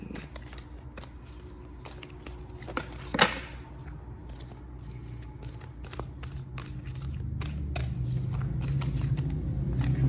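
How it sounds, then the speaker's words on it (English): Tarot cards are shuffled repeatedly at close range, bursts of riffling and crisp slaps, with a steady rustle building toward the end. "Hard for my little hands to shuffle."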